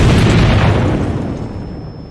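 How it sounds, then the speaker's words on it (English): A loud, booming explosion in the video game Sir Brante, a bomb going off in a city square, fills the moment with a broad rumbling roar that slowly fades away, with no speech over it. "There was an explosion in the square in front of City Hall."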